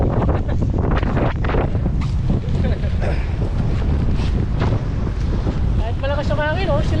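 Strong wind buffets the microphone continuously with loud roaring gusts, while voices talk faintly underneath and water sloshes nearby.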